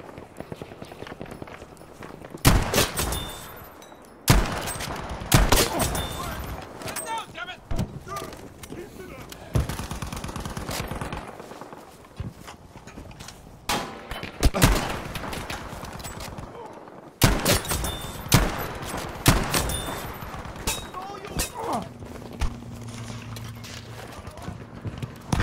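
Gunfire in the Battlefield 5 video game on Wake Island, loud bursts of automatic fire and single shots in irregular clusters, separated by brief quieter gaps, with talk heard in places.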